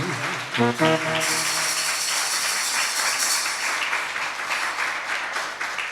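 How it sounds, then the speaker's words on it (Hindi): Sustained crowd applause for a pandit at a farewell gathering in a Jain temple in Sarita Vihar, a dense steady wash of many hands clapping with a brief tonal note near the start, loud and continuous throughout. "सो ऐसे हमारे पंडित जी के लिए एक बार जोरदार ताली होनी चाहिए"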